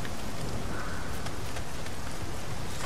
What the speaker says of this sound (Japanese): 雨すっげえな。